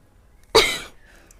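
A woman gives a single sharp cough, sudden and fairly close, trailing off over about half a second against quiet surroundings.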